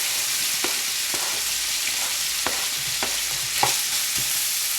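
Onions sizzle in a hot pressure cooker pot for a bolognese sauce, a steady hiss with a few soft clicks of stirring spread through, no voices.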